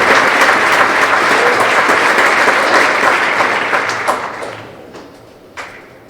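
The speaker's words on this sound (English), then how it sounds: "So we give one more round of applause for Braden Saleh." Audience applause at a high school winter sports awards ceremony, loud dense clapping that fades gradually toward the end, with a few scattered claps trailing off and a single tap near the close.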